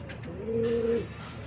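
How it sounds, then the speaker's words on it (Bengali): A European Lahori pigeon, a single male, gives one short soft coo close by over faint room noise. "তা পায়রাটা অনেক দূর থেকে নিয়ে আসলাম"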